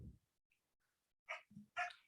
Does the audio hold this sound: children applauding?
no